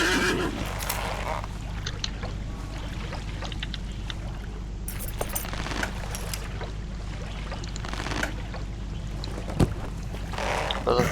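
A horse wades through water in the LotRO game Fangorn area, with splashing and sloshing movement and occasional whinny-like sounds, heard at moderate level under a faint voice.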